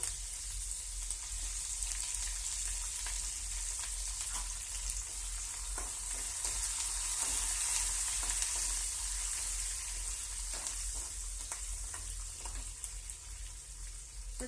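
Green chillies and curry leaves sizzle and crackle steadily in hot oil alongside frying chana dal, a continuous close frying hiss with occasional stirring clicks and no talking.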